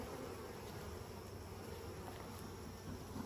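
A thick, unbroken buzz of a mass of agitated honeybees in a hive, loud and close, swelling slightly toward the end.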